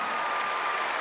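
Steady applause from a strongman competitor clapping for his rival at a strongman competition, with a crowd's clapping blending into a dense, continuous patter throughout the brief moment.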